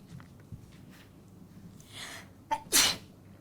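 A single sharp sneeze bursts out near the end of a quiet indoor stretch, a short intake followed by a loud explosive release.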